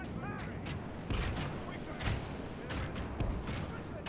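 Town militia shoot from the walls in a Medieval 2: Total War siege, with repeated sharp impacts scattered over a dense, constant battle din and faint voices in the background.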